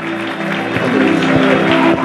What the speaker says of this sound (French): Il mérite nos acclamations.